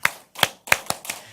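An audience claps out a rhythmic 'clap, clap, clap-clap-clap' listening-applause pattern at a church seminar, five crisp group claps close and alone, the last three quicker.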